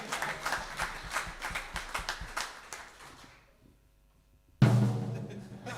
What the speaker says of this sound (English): round of applause for Ruth.